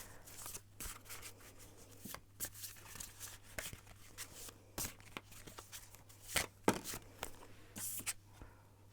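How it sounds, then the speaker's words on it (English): Tarot cards shuffled by hand, giving soft, irregular riffling and tapping rustles that come close and quiet in a still room, with no talking. "I'm gonna shuffle, see what the cards have to say"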